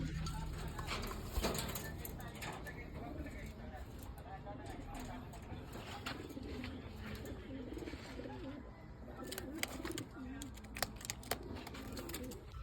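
Pigeons cooing steadily inside a loft, a continuous chorus of low rolling coos with occasional wingbeats and scuffs, while a person talks over them.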